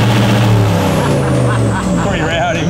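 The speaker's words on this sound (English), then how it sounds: "You hear that exhaust? It's a lot louder now." A loud V8 engine in a Toyota 79 Series revs close by, its deep exhaust rumble rising and falling in pitch with a rough, throaty edge.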